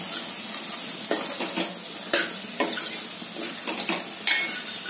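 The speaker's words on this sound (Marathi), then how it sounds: "आता हे मसाल्यामध्ये मी याला फ्राय करून घेतले मसाला।" Dried Bombay duck fish frying in masala, stirred with a spoon so the sizzle rises in short scraping bursts at an uneven pace, close and fairly loud, no voices.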